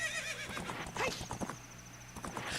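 A horse in the video game Ocarina of Time whinnies and trots, its neigh rising over quick clip-clopping hooves against a layer of game music and effects.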